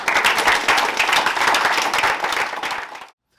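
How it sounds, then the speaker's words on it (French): A church congregation applauding during a service, a dense burst of many hands clapping close and loud for about three seconds before cutting off abruptly. "Acclamons pour Jésus."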